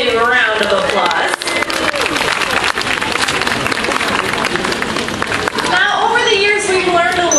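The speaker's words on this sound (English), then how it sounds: "Let's give them a nice big round of applause" The crowd at an aquarium dolphin show gives loud, dense, continuous applause that swells and then fades slightly near the end, with voices mixed in.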